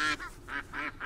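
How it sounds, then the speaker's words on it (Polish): Ducks quack in short, nasal bursts, about four calls in quick succession, close and fairly loud, with no talk over them. "Nie uciekajcie! Taś, kaczuszki!"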